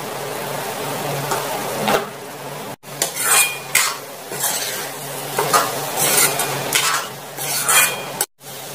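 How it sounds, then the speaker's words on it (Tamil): A spoon scrapes and stirs in a pan in bursts while chili paste sizzles and fries steadily underneath. "மிளகாய் சாந்து உள்ள சேர்த்துக்க கொஞ்சம் நல்லா வதக்கிக்கலாம்"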